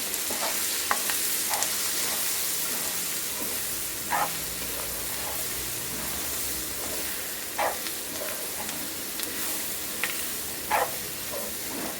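Coriander powder is stirred into small onions and little brinjals frying in a pan, a constant close hiss of sizzling with intermittent clicks and scrapes of the spoon.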